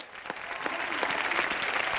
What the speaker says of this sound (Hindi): मैं चाहता हूं खड़े हो गए तालियां बजा जाए